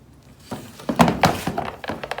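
Car corner light being pried out of its bracket, a series of sharp plastic thunks and snaps in quick uneven succession, close and alone.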